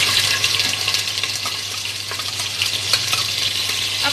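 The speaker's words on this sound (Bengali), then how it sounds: "আমি দুটো তেজপাতা ফোড়নের জন্য দিয়ে দিচ্ছি" Two bay leaves dropped into hot oil for tempering, giving a steady, fairly loud sizzle and crackle that holds evenly throughout with no talking.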